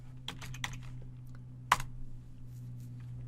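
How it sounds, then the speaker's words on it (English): Close computer keyboard typing in quick light clicks, followed by one louder, sharper keystroke for the enter key, over a low steady electrical hum. "We're going to type run and press enter."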